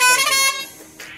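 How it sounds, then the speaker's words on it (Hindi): A decorated motorcycle's horn sounds one loud, bright blast that fades after about half a second, recorded close at the start of a ride. "हॉर्न चेक करो भाई, इस हॉर्न का फेन हूँ मैं, हॉर्न मारना भाई"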